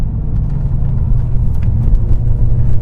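A 2007 BMW E63 M6 with a V10 engine and SMG3 gearbox rumbles steadily under throttle, its deep engine note building smoothly and continuously, heard from inside the car with no talking over it.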